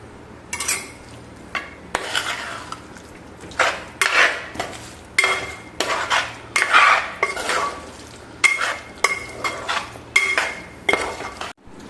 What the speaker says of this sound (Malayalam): ഇനി നോക്കാം, ഇളക്കി നോക്കാം.